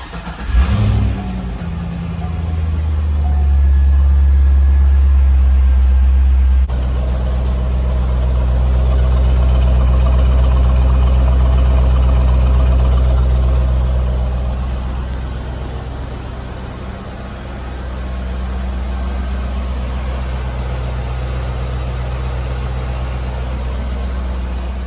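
Chevrolet Corvette C5 engine running in neutral, starting with a quick rev before settling into a loud, deep, steady idle with slow swells in level, no talking.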